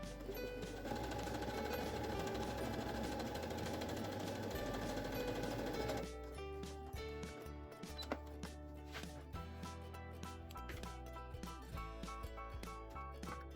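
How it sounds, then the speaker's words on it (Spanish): Sewing machine with a standard presser foot stitching adhesive tape at a 3.5 mm stitch length, running as a steady, dense buzz at first, then giving way to sparser, intermittent stitching bursts. "como ves voy a coser con el prensatela estándar de mi máquina"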